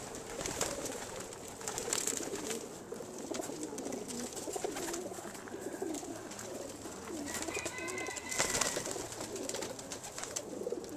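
Several hens cooing softly in a pigeon loft, a steady low murmur of overlapping coos with light rustling and a brief flutter of wings, fairly close and continuous, no talking.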